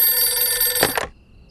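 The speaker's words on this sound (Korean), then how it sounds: "이 시간에 뭔 전화야?" A telephone rings at night in a home, its loud, steady electronic bell trilling up close for about a second before cutting off abruptly into near silence.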